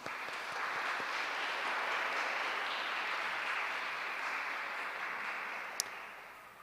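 Church congregation gathered for an Easter Sunday Eucharist breaks into loud, sustained applause, a dense wash of clapping that swells and then tapers over several seconds, with no voices over it.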